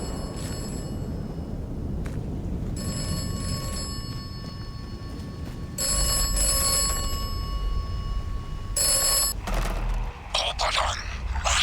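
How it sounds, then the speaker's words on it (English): An old telephone rings repeatedly inside the WW1-era world of the game Atomfall, its bell bursts sounding in separate clusters over a dark, rumbling ambient bed, with a voice talking throughout. "Every time you come to a new section of a map, you always hear a ringing phone."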